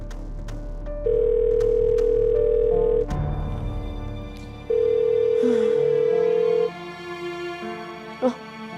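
A phone call being placed gives two long, steady electronic tones, each about two seconds, separated by a pause, over faint background room sound and a soft thump near the end.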